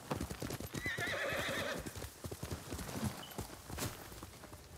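In the game Ghost of Tsushima, hooves clip-clop in a steady rhythm while a horse lets out a loud, quavering whinny, followed by more hoofbeats and a brief snort.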